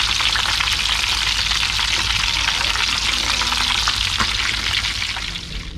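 Pieces of carp or catfish frying in a small, crowded pan give a loud, steady, close sizzle with dense crackling throughout, easing off slightly near the end; no voices are heard.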